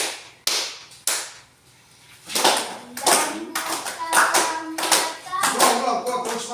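Hands clap sharply a few times, then claps continue rhythmically under children singing and talking nearby during a classroom lesson.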